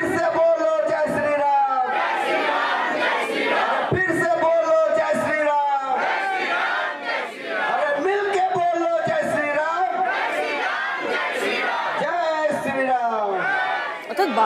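A crowd chants and cheers in unison at a Ram Navami procession, dense rhythmic massed voices, loud and continuous.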